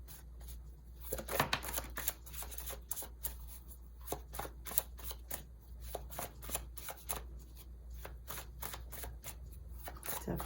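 Tarot cards are shuffled and drawn by hand, making a quick run of close, crisp riffling and slapping sounds that repeat steadily with small pauses between bursts.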